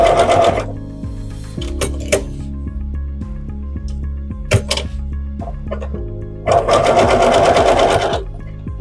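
A sewing machine stitches a swallow baby quilt around a curve, running in loud mechanical bursts broken by short pauses and clicks while the fabric is pivoted.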